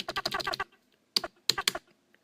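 Arrow keys on a computer keyboard tapped in a quick burst of about eight clicks, then a pause and two more short runs of presses, close and clear with no talk.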